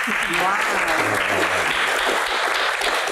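An audience at a Q&A panel on acting breaks into dense, sustained applause, many hands clapping at once under a voice that keeps talking over it.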